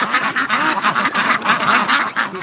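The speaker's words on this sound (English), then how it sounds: "Look at the size of that niacin duck." Large Peking ducks quack repeatedly in a busy, overlapping chorus close by, a steady run of nasal calls with no talking.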